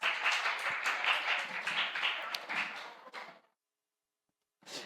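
A church audience claps together for about three seconds, dense and lively, then it falls silent before a brief burst of clapping resumes.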